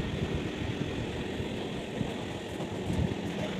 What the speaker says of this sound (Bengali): Lalgola Kolkata MEMU passenger train.